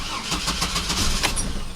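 A GMC Jimmy Blazer engine cranks in a rapid, even rhythm of starter pulses after a fuel filter replacement, loud and close, the motor beginning to kick over with no one talking.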